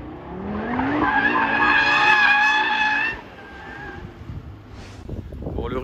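A 2022 Audi RS3 drifts and its tires squeal in a loud, rising, wavering screech for about two seconds. The screech then fades into quieter car noise, and a voice follows near the end.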